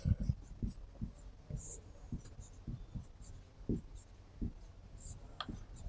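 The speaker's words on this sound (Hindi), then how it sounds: "तो नेक्स्ट पॉइंट लिखते हैं" Notes written on a board during a Hindi-language biology lecture on the cell: a run of short, irregular taps and scratches of the writing tool, close and moderately loud, with faint breathy vocal sounds in between.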